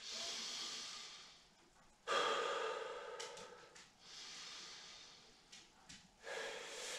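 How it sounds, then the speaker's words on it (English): Deep, slow breathing while seated upright in a kundalini yoga session: several long inhales and exhales close to the microphone, breathy and soft, with one sharper, louder intake partway through. "Take a couple deep breaths."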